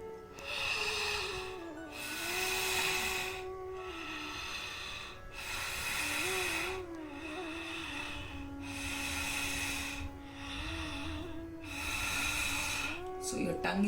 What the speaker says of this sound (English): keep your mouth open and again breathe from your throat like this